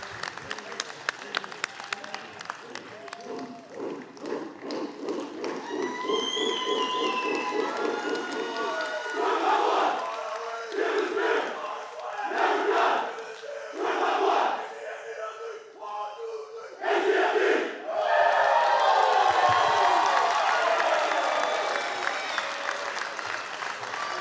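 A fire department recruit academy graduation crowd gives the graduating fire recruits a standing ovation: steady, loud applause with cheers and shouts, preceded by some speech over a PA and rising to a sustained roar of clapping.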